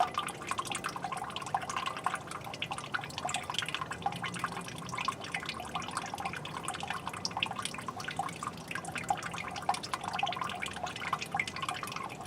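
Wort drains from a tilted bag of spent brewing grains into a pot during a Vienna lager brew, a constant close patter of trickles and drips running steadily throughout.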